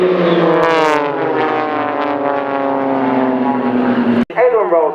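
Display aircraft roar overhead at the RAF Waddington airshow, a loud sustained engine drone with a falling pitch as they pass, briefly cut off near the end before resuming.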